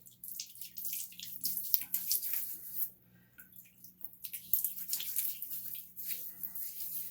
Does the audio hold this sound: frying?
no